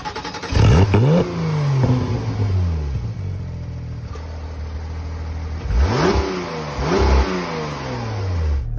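A Porsche 991.2 GT3 Touring engine revs hard and accelerates, rising in pitch through gear changes, then surges again after a brief lull, loud and close.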